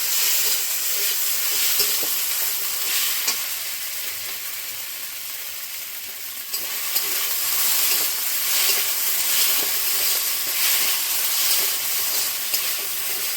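Sago pearls frying in ghee in a pan give a loud, continuous hissing sizzle with light stirring, briefly dipping midway before resuming steadily.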